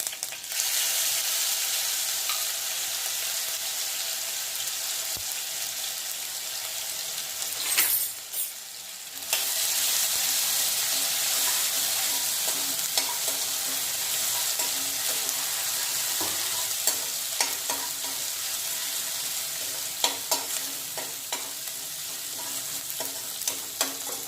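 Steady loud sizzle of whole cumin seeds frying in hot oil for a tempering, with occasional stirring clicks and a brief dip partway through; no talking.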